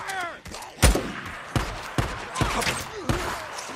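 Gunfire rings out in a Days Gone firefight, a string of sharp, loud shots at irregular intervals, about six or seven blasts with echoing tails and a short voice at the start.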